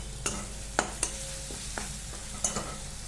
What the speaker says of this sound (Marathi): याला आपण छान असं मिक्स करून घेऊ आणि मग हे फ्राय झालं का